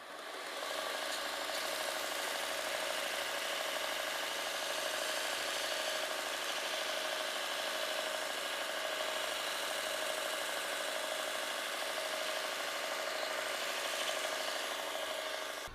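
A linisher belt sander hums and rubs continuously while a woodturner's roughing gouge is sharpened on it, giving a steady, even grinding drone with no breaks and no talking.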